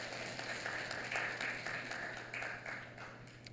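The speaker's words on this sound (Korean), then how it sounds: "하나님께 영광의 박수 올려드립니다" Church congregation applauding together during a service, a steady, fairly quiet wash of many hands clapping that holds for a few seconds with slight swells, set against a low constant hum.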